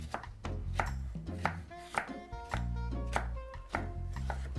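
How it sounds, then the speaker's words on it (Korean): A knife julienning radish for seasoned namul strikes a cutting board in quick, fairly regular chops, close and crisp, with no talking. "그냥 채치시면 돼"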